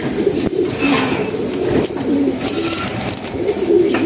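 Racing pigeons coo in a loft, low throaty calls rolling out in repeated phrases over a steady, busy background of rustling and other birds, fairly close and continuous.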